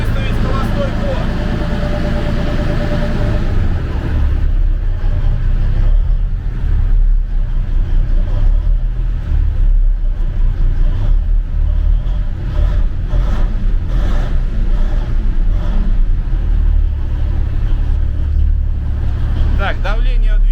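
A missile transporter truck's diesel engine runs at a steady idle, a continuous low rumble filling the whole stretch, with people talking over it at times.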